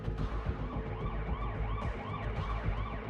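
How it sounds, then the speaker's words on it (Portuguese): Wailing emergency sirens rise and fall continuously over a low rumble of traffic, with several overlapping tones and no speech. "o som de sirenes invadiu o casarão"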